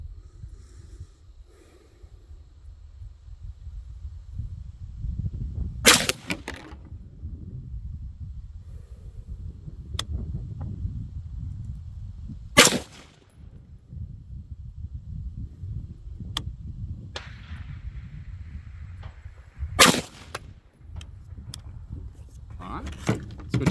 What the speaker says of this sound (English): Again, same point of aim, all fundamentals, gonna send 3 rounds.